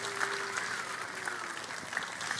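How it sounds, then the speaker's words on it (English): Steady applause from a crowd at a board of education public session, a continuous wash of clapping hands at moderate volume with no voices standing out. "Let's give them a big round of applause."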